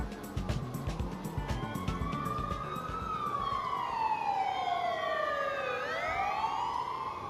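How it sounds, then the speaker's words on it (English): A police siren from the video game Ace Attorney Dual Destinies wails in rising and falling sweeps that grow louder and layer over one another, above a busy, noisy background. "Whoop, whoop. That's the sound of the police."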